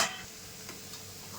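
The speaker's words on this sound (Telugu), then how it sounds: "రెండు పక్కల చక్కగా వేయించుకోవాలండి" Amaranth leaf preparation frying in a pan, cooked on both sides: a soft, steady oil sizzle with faint scraping ticks throughout, fairly quiet and close, with no voices.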